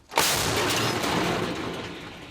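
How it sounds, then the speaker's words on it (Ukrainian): A single heavy artillery gun boom hits suddenly at a war front, then rolls and echoes for a couple of seconds before slowly fading. "Гармата!"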